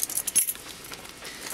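House keys jangling as they are handled, a few quick, bright metallic clinks up close, then quieter rattling.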